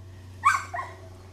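A trained Labrador gives a single short, sharp bark, fairly close and loud against a quiet room with a low steady hum.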